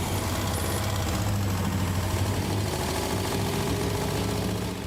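A 1960 Mercedes 190B engine from an abandoned classic runs steadily and loudly up close, a dense continuous rumble with a knocking, idling vibration and no voices.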